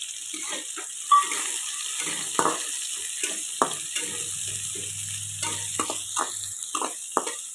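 Chopped onion and green chillies fry in a pan with a soft sizzle and repeated scraping, tapping stirs from a spatula, close and moderately loud.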